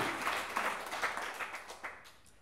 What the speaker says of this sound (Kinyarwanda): Reka tuyikomere amashyi, Imana yacu irarikwiriye.